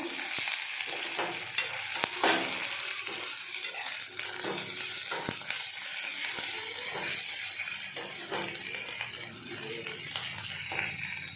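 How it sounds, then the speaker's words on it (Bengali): Ginger garlic paste fries with browned onions in a pan, a soft steady sizzle with occasional stirring scrapes and clicks, fairly quiet and without speech. "আদা রসুন দিয়ে একটু ভাজা ভাজা করে নেব"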